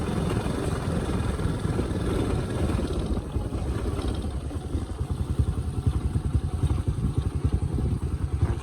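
A motorbike is ridden along a road in Laos, its engine rumbling steadily and close, with a rough, pulsing drone that grows more uneven partway through, and no voices.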